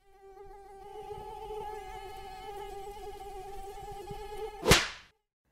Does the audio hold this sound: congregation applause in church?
no